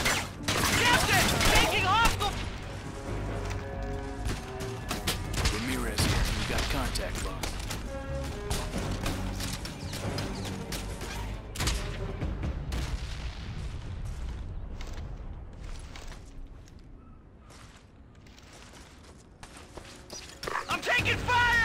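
Rapid bursts of automatic gunfire and explosions in Ghost Recon Advanced Warfighter 2, a tactical shooter video game, loud and dense, with radio voices talking over the combat and the firing thinning out toward the end.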